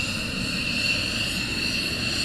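A taxiing military jet at RAF Lakenheath gives off a steady, high whistle from its engine air ducts over a broad, constant engine roar, loud and sustained throughout with no voices.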